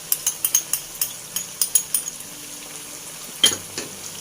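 Flat kue teow noodles being stir-fried in a pan with oyster, tomato and chili sauces: quick rhythmic metallic clinks of a spatula against the pan over a faint sizzle, a pause, then a few more scrapes.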